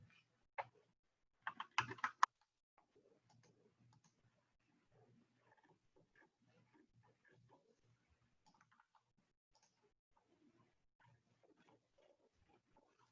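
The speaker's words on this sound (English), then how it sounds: "I come back here and I type in Jamaica" A few quick clacks of typing on a computer keyboard during a coding workshop, in a short burst near the start, then only faint quiet background.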